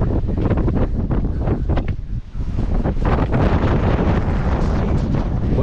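Strong wind blasts across Girnar hill in Gujarat, a loud continuous roaring buffet against the microphone with gusty surges and a brief dip midway, with no voices heard.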